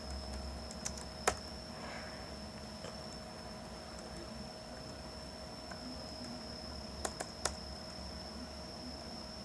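Sparse clicks of keys as a command is typed on a computer keyboard, a few isolated taps over a constant electronic hum and fan noise.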